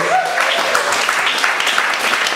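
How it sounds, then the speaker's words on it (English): Lively applause from an audience, dense clapping with a few brief whistles or cheers mixed in, steady for the whole stretch. "Another round of applause for Steve Cake, please."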